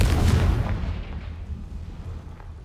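A Confringo fire-blast spell from a magic video game goes off as a loud booming explosion at the start, its heavy low rumble fading away over the next couple of seconds.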